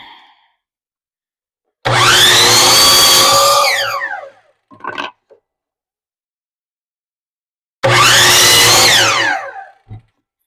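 A saw at a miter box trims wood edges in two loud, close cuts a few seconds apart. Each is a harsh whining burst that winds down into quiet.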